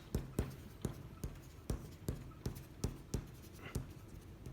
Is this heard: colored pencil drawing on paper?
yes